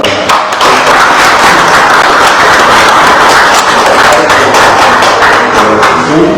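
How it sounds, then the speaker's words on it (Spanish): An audience applauding at a talk with studio photographers, a loud, dense, sustained wash of clapping that continues steadily throughout. "pues un aplauso"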